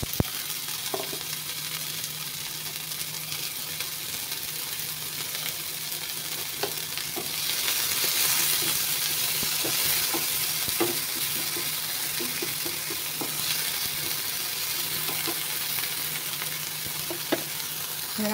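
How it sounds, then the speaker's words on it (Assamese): Dried small fish sizzle in a little hot oil in a wok while a spatula stirs and scrapes with irregular knocks, a steady loud hiss that swells midway, with no talking. "এনেকৈ মাছখিনি ভাজি ল'ব লাগিব"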